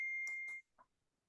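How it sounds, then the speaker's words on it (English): A phone ringtone plays a short electronic melody, a sustained bright tone followed by a few quick chirping notes, brief and fairly faint before cutting off. "that's my song ringing"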